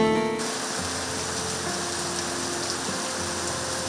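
Steady rain falls in a dense, even hiss of drops that continues unbroken, with a brief musical tone just before the downpour takes over.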